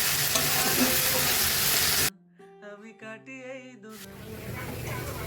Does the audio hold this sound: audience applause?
no